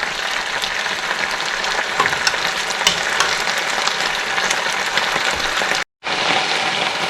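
Snow peas frying in olive oil in a pan give a loud, close, steady crackling sizzle with scattered pops, broken by a brief moment of silence near the end before the sizzle resumes.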